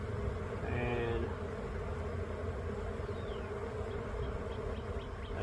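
Honeybees buzz loudly inside an opened hive during a March inspection, a dense steady drone holding from start to finish with a brief higher whine near the start.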